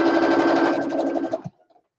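A sewing machine stitches a thick seam on a pillow case, a fast steady whirring with rapid needle chatter, close and alone, stopping abruptly near the end.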